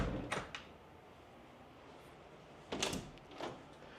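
A service door to a courtyard in a new home opens with a couple of quiet clunks at the start, then a louder latch and swing sound near the end, close by.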